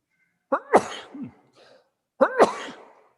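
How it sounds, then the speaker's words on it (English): Two sharp sneezes, each with a quick inhale before the burst, separated by a short pause and close to the listener, in a Buddhist monastery hall. "I'm going to sneeze."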